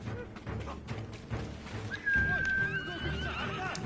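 A horse in the samurai video game Ghost of Tsushima, summoned by whistle, gives a loud, clear neigh that rises and trails off, preceded by thumping hoof and movement sounds.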